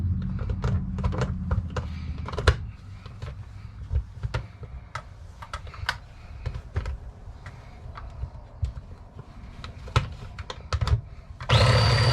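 A small motor whirs in short spurts with scattered clicks and knocks between them, then a loud blender blending tomatoes for fresh salsa roars up at the very end.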